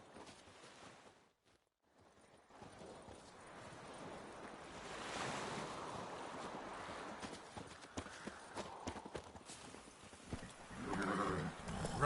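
Roach, Geralt's horse in The Witcher 3, gallops with a steady run of hoof clip-clop over wind and surf-like ambience, with a brief neigh near the end.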